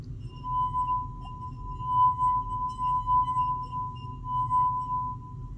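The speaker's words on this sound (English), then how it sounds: "If I wet my finger and rub the edge of this glass," A wet finger rubbed around the rim of a water glass makes a pure, steady ringing tone that holds at one pitch, swelling and easing slightly in loudness, with no talking.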